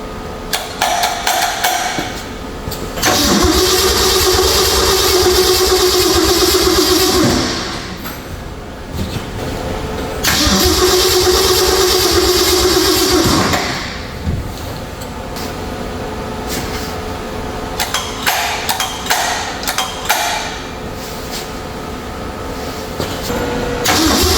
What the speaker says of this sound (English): first time this thing is going to be attempted to run in decades.